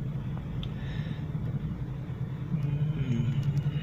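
Heavy, slow-moving traffic on a coastal road produces a low, steady engine rumble with a passing vehicle that swells slightly louder toward the end.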